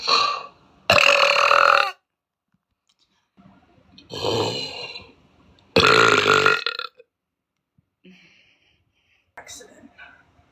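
A woman lets out several loud, drawn-out burps in bursts separated by short silences, with a few faint softer sounds near the end.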